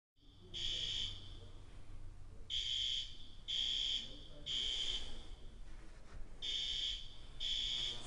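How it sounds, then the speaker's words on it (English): An indoor fire alarm sounds in repeated shrill high-pitched beeps, each about half a second to a second long with short gaps, steady and moderately loud, with someone speaking under it. "There's a fire alarm going off while I'm filming this video."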